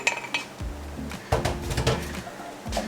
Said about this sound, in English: And you're just going to mix this together.